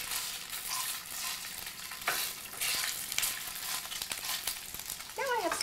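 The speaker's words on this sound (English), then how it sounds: "So we'll saute this sausage up." Sausage sautés in a hot pan with a steady, close sizzle and scattered scrapes of stirring, ending with a brief higher squeal over the frying.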